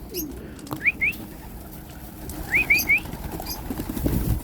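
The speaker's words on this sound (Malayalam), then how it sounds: "പ്രാവിത എല്ലാം ഇവിടെ ഇരിക്കുന്നുണ്ട് തീറ്റ വേണ്ടി നമുക്ക് നോക്കാം" Pigeons gathered at a bird cage feeder give a few short chirpy calls in two small bursts, fairly close, over a low outdoor background rumble.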